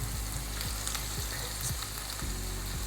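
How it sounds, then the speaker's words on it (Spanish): Garlic and ginger paste frying in oil, a loud continuous sizzle with soft stirring scrapes running through it. It is close, steady and dense, with no voices. "Colocamos la pasta de ajo y jengibre con el aceite."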